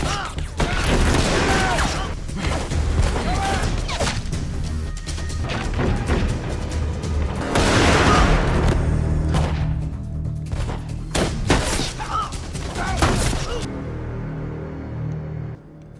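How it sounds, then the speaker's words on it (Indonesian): A gunfire exchange between soldiers, with dense bursts of shots and heavy impacts clustering in waves over about fourteen seconds, loud and close before tailing off into quieter ambience. "kontak senjata pun terjadi"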